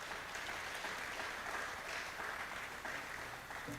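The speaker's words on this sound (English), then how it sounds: "So I think that we should applaud again the Angolans and the" Steady audience applause at a Battle of Cuito Cuanavale commemoration, a fairly faint, even wash of clapping from a seated crowd that continues without a break.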